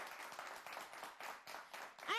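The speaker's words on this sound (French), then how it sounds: "on s'applaudit pour la santé que chacun a" An audience claps together in a faint, uneven patter of hands from a small group indoors, with a short whistle-like tone at the very end.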